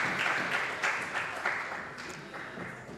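Members of a parliamentary house clap after a minister's budget speech, a short spell of moderate applause with audible individual claps that gradually thins out.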